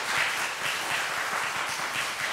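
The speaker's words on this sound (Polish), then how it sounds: "Gotowi do oklasków? Poproszę o brawa!" Children in an audience clap steadily for a few seconds, producing a dense, even patter of applause with no speech over it.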